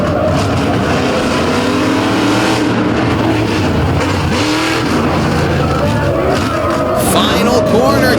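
Monster trucks Bad Intentions and Brett Sponenberg's truck racing side by side at a Lake Erie night event, loud engines revving and roaring under a commentator's talk, with crowd noise behind.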